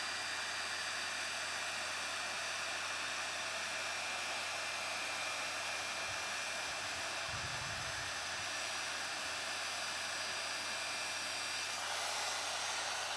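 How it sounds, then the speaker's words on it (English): A heat gun blows steadily and loudly close by while melting embossing powder, a constant hissing whoosh with a brief low thump partway through. "Make sure when you're heat embossing that you've just got your gun really nice and good and hot."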